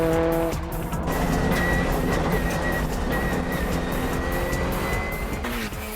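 A four-wheel-drive Subaru Impreza race car at speed on a track, its engine roaring loud and continuous with tire squeal and skidding throughout, no talk.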